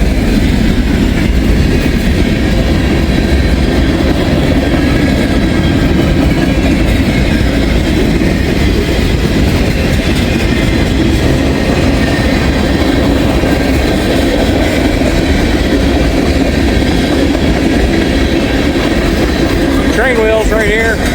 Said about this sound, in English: Train wheels right here.